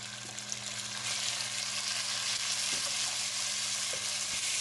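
Tomatoes go into a pan of frying palak chicken, giving a steady, loud sizzle that holds evenly throughout with a faint scrape or two, and no talking.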